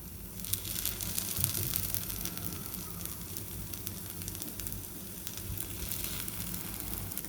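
Sweet kuzhi paniyaram sizzling in a paniyaram pan just after the batter rounds are flipped, a soft, continuous crackling fry with faint scrapes, steady and alone without talk.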